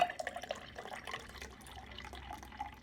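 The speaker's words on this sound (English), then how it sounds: "Fill it up halfway with sparkling water." Sparkling water pours into a glass over hibiscus syrup, a quiet steady fizzing trickle with faint dripping and bubbling, heard alone.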